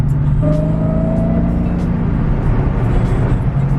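A Dodge Scat Pack car drives past nearby, its engine droning with a tone that shifts downward as it goes by, steady road noise throughout.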